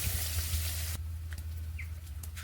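Dried red chilli flakes and chopped onion hit hot oil in a pan with a loud hiss, which drops sharply after a second to a quieter, crackling sizzle with scattered pops.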